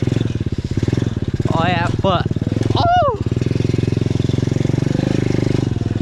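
A pit bike engine idles steadily with a fast, even putter close by, a rider speaking briefly over it before a mud ride.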